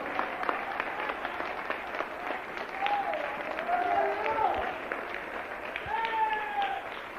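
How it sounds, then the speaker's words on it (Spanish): A church congregation applauds during a sermon, a dense, steady patter of clapping spread through the room with a few voices and cries rising over it. "Denle un aplauso a Cristo, que Él se lo merece."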